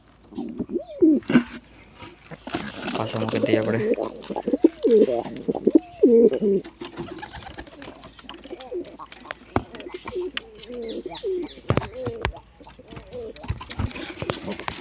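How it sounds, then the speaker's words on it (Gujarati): Pigeons nesting beside their eggs coo repeatedly in soft, throaty bursts mixed with a few chirps, close by, while someone speaks briefly. "લાલ કબૂતરને બહાર લઈ લઉં."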